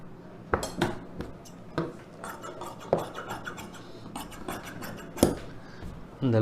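Scissors slice through silk cotton blouse fabric in repeated crisp snips and scraping rasps against a cutting surface, with blades clicking at irregular intervals close by.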